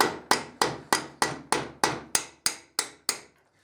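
Eleven evenly spaced, sharp metallic hammer strikes on a pin punch drive out the rear axle bolt of a Kawasaki Z1000SX motorcycle, each blow ringing briefly and fading before the next, close and clear with no talk.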